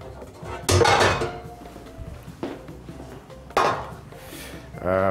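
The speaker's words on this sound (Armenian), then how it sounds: "Վերցնում ենք տապակ" A frying pan is picked up and handled in a home kitchen while preparing oven-baked chicken, giving a few loud metallic clanks and knocks separated by quieter handling noise.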